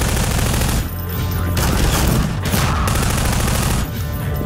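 A grenade explosion and bursts of gunfire in a video game, loud dense rapid shooting with a heavy blast and brief dips between volleys.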